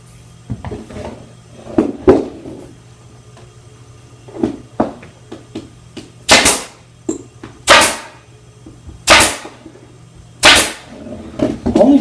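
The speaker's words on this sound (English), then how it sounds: "I'm going to take my staple gun." Staple gun firing into fabric on an upholstered cornice: four sharp, loud snaps spaced about a second and a half apart, with quieter handling clicks and rustling between them, close up.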